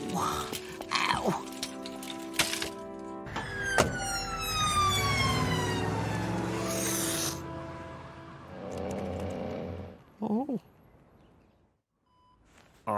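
A cartoon ambulance siren rises and wails loudly for several seconds amid other sound effects, then gives way to scattered short noises and quieter moments.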